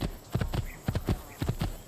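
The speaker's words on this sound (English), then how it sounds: "Random horse jump." Galloping hooves of a jumping horse in the video game Assassin's Creed 2 thud in quick rhythmic clusters of three, repeating several times at a moderate distance with no voices.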